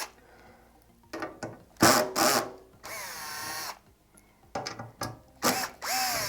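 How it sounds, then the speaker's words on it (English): A cordless power driver with a torque setting removing screws from an Emotiva amplifier, in several short whirring bursts with rising and falling motor pitch and a ratcheting clutch sound, close by with quiet gaps between. "I do like that torque setting on the driver, that way I don't over torque things."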